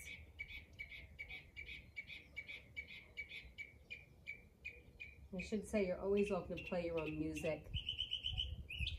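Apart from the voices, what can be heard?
birds chirping outdoors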